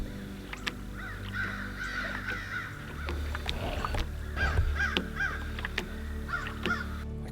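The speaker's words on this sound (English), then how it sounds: "you have this blanket of sound from the crows" A flock of crows caws loudly and repeatedly at a wetland during a wood duck hunt, harsh calls overlapping into a dense racket over a low rumble.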